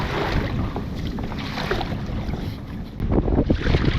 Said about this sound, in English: Choppy waves coming in.